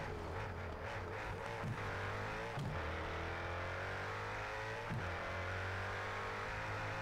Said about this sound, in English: You can feel how this engine pulls.